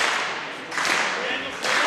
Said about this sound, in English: even people who aren't on the band are clapping